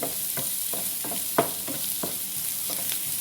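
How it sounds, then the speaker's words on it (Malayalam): Sliced onions sautéing in a pan for a stuffed squid dish, with a steady soft sizzle under repeated scraping stirs from a spoon, one stroke louder than the rest. "നല്ലോണം ഒന്ന് വാടി വരട്ടെ ഉള്ളി"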